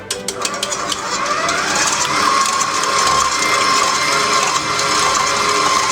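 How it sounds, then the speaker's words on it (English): A KitchenAid stand mixer with a wire whisk attachment beats egg whites until foamy, a loud, continuous mechanical whir with a rising then steady motor whine and rapid clicking texture, heard alone. "we're going to be using the one with KitchenAid stand mixer. We're going to insert it with a wire attachment."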